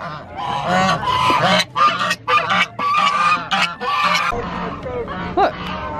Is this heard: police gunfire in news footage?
no